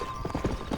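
Horse hooves clip-clopping in the Red Dead Redemption video game, a brief run of quick, moderately close hoofbeats heard on their own.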